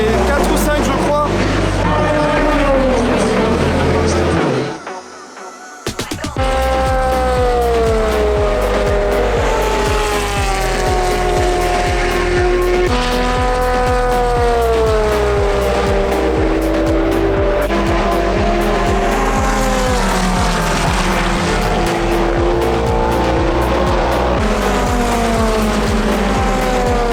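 Race cars roar through the Porsche Curves at the centenary 24 Hours of Le Mans, loud and close, engines climbing and falling in pitch as they pass in steady succession, with one brief lull early on.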